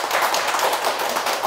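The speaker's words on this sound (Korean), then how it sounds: "박수 한 번." Audience clapping in a Korean history lecture room, a brief burst of dense, steady hand claps throughout, fairly loud and close with no talk over it.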